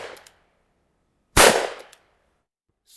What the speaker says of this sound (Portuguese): Depois disso, meus 5 disparos.